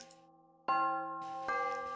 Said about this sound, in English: Right as I got everything ready, the bell rang and the door opened.